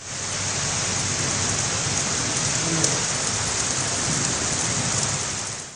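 Heavy rain falls steadily during a thunderstorm, a dense and constant hiss that stays loud and even throughout. A faint low rumble may sit beneath it, and there is no talking.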